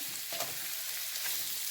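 A steady, soft sizzle of paneer cubes stir-frying in a pan over medium heat, continuous and close, with faint stirring scrapes.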